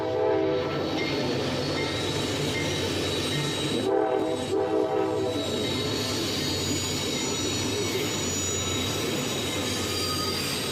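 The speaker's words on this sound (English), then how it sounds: "I think we got ourselves a coal train." A long coal train rumbles steadily past close by, wheels squealing and a horn sounding, with continuous heavy rolling noise throughout.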